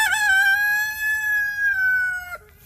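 A rooster lets out one long, loud crow close by, holding its strained call for over two seconds before breaking off, with soft clucking from other chickens underneath.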